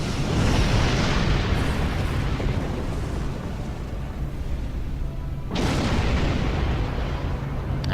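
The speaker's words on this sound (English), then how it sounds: "Now that explosion hit the Kittimer hard" A deep, rumbling explosion in the video game Star Trek Online roars loudly, fading into a sustained low roar, then a second heavy blast erupts and rumbles on.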